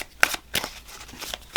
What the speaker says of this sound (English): Now we're just going to go ahead and shuffle.